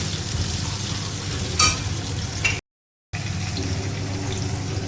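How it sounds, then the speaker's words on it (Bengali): Ginger and split green chillies fry in a pan for sago pulao: a steady close sizzling hiss with a brief louder burst, broken by a short dropout of silence before the hiss resumes. "তো এটা দিয়ে একটু ভাজা ভাজা করব। আদাটা মোটামুটি প্রায় ভাজা হয়ে"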